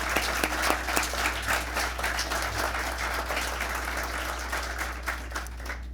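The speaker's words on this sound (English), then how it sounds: "Another round of applause for them." Audience applause at a school of public health community celebration, a full, sustained burst of many people clapping with a steady low hum underneath.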